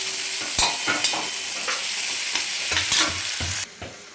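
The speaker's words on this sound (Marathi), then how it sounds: "टोमॅटो घेतला आहे 1 गावरान, त्याला पण आपल्याला 1-2 ते 3 मिनिट छान परतून घ्यायचे।" A local country tomato sautés in a pan, giving a steady close sizzle broken by repeated scraping stirs, before the sound drops off near the end.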